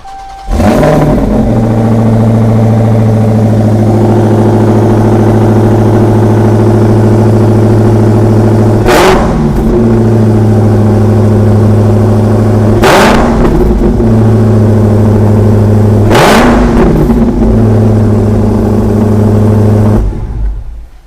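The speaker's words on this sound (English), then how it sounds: "But let's fire it up, PJ." A high-performance car's engine (a Shelby, Cadillac Escalade-V or Dodge Challenger SRT Demon 170) fires up loudly, settles into a deep, rumbling idle, and is blipped with three sharp, separate revs before cutting off.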